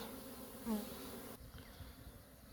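Bees fly around beehives on an April day, landing on the hive roofs. Their buzzing is faint and steady at a distance, with one brief louder pass close by. No voices are heard.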